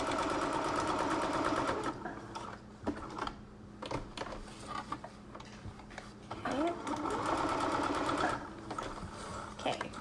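A sewing machine stitches a small fold on a fabric face mask cover with a filter pocket and nose bridge. Two steady bursts of rapid, even stitching play close up, with quieter handling and a person talking in the pause between them.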